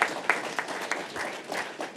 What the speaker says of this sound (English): Yeah, we can give him a round of applause.